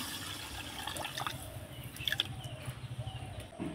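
Water is poured from a bowl onto a bowl of sugar to start a syrup for Sitabhog sweets, a soft close splashing and trickling with a few drips, quiet and without talk.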